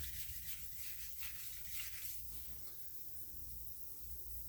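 Continuous wet scraping and rubbing on an auto body panel being wet-sanded for paint prep, steady and close, with a watery hiss throughout and no voices.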